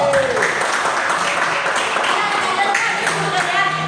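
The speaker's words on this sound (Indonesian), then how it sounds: "tepuk tangan untuk satu" Classroom students applaud a group of classmates, steady mixed clapping running throughout with voices chattering and calling out underneath.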